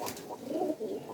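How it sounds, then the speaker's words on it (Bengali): A young teddy pigeon chick coos softly near at hand, a few low, murmuring notes in a quiet indoor setting. "এই যে এটা টেডি কবুতরের বাচ্চা"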